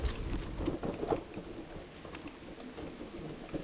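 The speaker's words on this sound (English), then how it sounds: "it was starting to get windy and thunder and rain here" A thunderstorm with wind rolls over an off-road scooter ride, rain hissing steadily and low thunder rumbling underneath, fairly faint and continuous with no voices.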